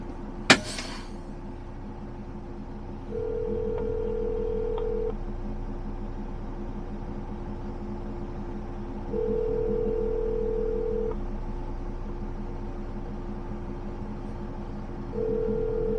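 A phone dials out a call from a truck, with a sharp click and then repeated steady ringback tones of about two seconds each, spaced evenly over a constant low engine hum.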